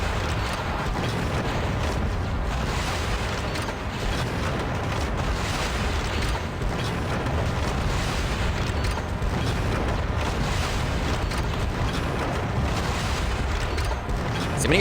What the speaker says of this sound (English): So many rockets this is taking.